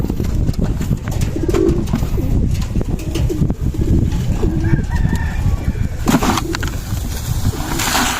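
Racing pigeons coo and flutter together inside a loft in hot weather, a dense, close, continuous chorus of cooing with wingbeats and scuffling throughout.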